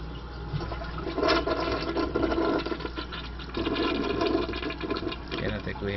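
Toilet flushing with a newly installed Fluidmaster universal toilet tank lever, a rushing water swirl with two surges, close and moderately loud, with a bit of talk and handling noise.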